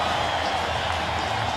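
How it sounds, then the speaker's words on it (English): Football stadium crowd at a Bills versus Chiefs game applauding an injured player as he walks off the field, a distant, steady roar of clapping spread across a large open space. "Round of applause for Brian Waters as he leaves the field under his own power"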